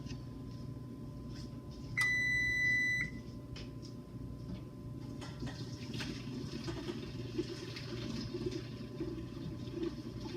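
A kitchen oven signals the end of preheating with a single sustained electronic beep of about a second, heard over running water and faint background clatter.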